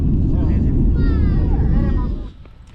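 A deep, steady rumble of a distant rocket launch at a NASA site in Florida fills the air with wavering tones on top, then drops away abruptly near the end.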